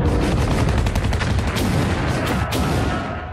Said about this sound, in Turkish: Ağır silahlar,